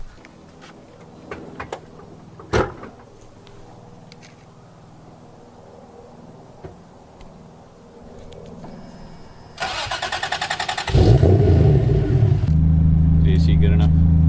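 A 400 hp turbocharged MK3 Toyota Supra 7M-GTE engine starts up and settles into a loud, steady rumble after a stretch of quiet cabin noise, with faint talk early on.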